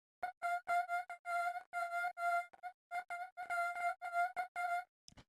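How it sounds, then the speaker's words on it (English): A granular synth built with Granulator 2 in Max for Live plays choppy, stuttering bursts of a bright, steady-pitched tone with rich overtones. About a dozen short grains are clustered in quick rhythmic groups, followed by a brief click at the end. "the first one is this granular synth, which sounds like this"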